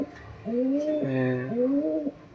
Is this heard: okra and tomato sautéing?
no